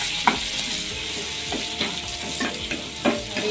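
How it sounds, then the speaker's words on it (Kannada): Onion, cashews and tomatoes fry for an egg gravy, a soft continuous sizzle broken by several sharp scrapes and clicks as a spoon stirs the pan. "ಜೊತೆಗೇ ಟೊಮೊಟೊ ಕೂಡ ಹಾಕ್ಕೊಂಡು ಫ್ರೈ ಮಾಡಬೇಕು."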